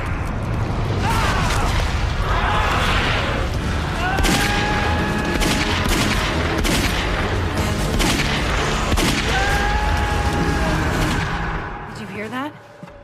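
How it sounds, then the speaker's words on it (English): Rapid bursts of gunfire from a P-85 automatic pistol, a dense, sustained volley of sharp reports filling most of the clip, loud and close, with voices faintly mixed in before it fades near the end. "Gunshots."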